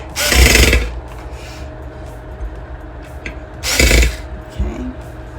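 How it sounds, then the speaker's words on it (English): A power screwdriver tightening the pieces of a glass garden flower, two short whirring bursts about three seconds apart, close by, with quiet handling clicks in between. "Take my screwdriver in the forward position. And just begin tightening the pieces."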